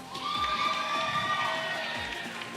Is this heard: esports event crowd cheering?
yes